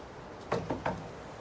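Three sharp knocks on a door in a seedy motel, evenly spaced and fairly close, with quiet room tone around them and no voices.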